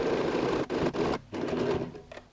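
A sewing machine stitches steadily right beside a pleat on a quilted toiletry bag, a close, continuous motor whir broken by two brief pauses before it runs on and slows at the end.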